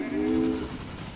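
A Grasshopper locomotive runs in the railroad game Railway Empire, giving a brief tonal whistle-like note over a low rolling rumble before it fades.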